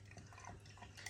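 Stout-style dark ale from Dartmoor Brewery pours into a glass, a soft close liquid trickle with faint dripping, brief and quiet with no talk.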